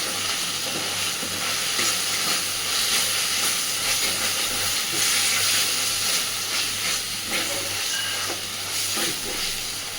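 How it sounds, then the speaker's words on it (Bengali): Rice tossed with spices in a hot pan for a traditional vegetarian Bengali dish, giving a steady, loud sizzle and hiss with stirring scrapes throughout and no talking. "মশলার সাথে চালটা ঠিক ততক্ষণ পর্যন্ত কষাতে থাকবো যতক্ষণ না চালের কালারটা চেঞ্জ হয়ে সাদা হয়ে যাচ্ছে"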